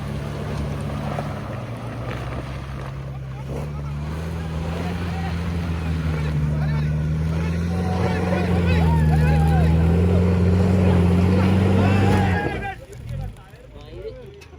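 An off-road vehicle engine revving hard at full throttle on a mountain track in New Zealand, a loud sustained droning roar rising in pitch, with voices talking over it before it cuts off near the end.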